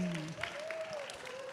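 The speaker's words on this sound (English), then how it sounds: "Round of applause" An audience applauds as a woman is welcomed onto the stage at a Singapore community event, with steady clapping under a sustained tonal sound and a few voices.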